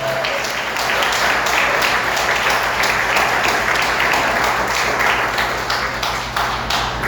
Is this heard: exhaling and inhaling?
no